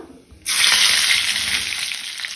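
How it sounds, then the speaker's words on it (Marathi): Mustard seeds crackling in hot oil while tempering for a Goan sprouted moong curry, a loud, dense sizzle that bursts in after a quiet start and holds steady, with no talking. "सासवां बरी तडतडपाक दिवपाक जाय।"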